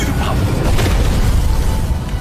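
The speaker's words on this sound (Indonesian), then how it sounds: "efek ledakan yang sangat dahsyat" A powerful explosion effect in an animated fantasy battle booms in a dense, sustained roar with deep rumbling throughout, loud and continuous for about two seconds.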